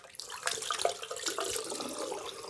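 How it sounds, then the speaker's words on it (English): Cold water running from a bathroom tap into a sink during a wet shave, a steady broadband splashing stream at moderate distance with a few brief clinks over it. "They'll go away now when I put cold water."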